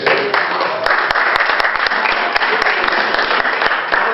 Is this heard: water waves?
no